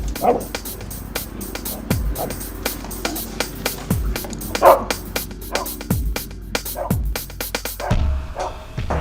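A dog barks repeatedly, close and loud, in sharp bursts spaced a second or two apart, with scuffling and movement between barks.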